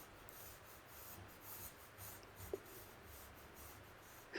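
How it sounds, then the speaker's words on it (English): Pencil drawing on paper while sketching a realistic tiger lily, a faint continuous scratchy rubbing of graphite strokes, close up and quiet, with a small tap partway through. "Start off by drawing a lopsided oval."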